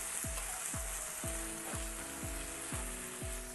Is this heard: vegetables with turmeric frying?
yes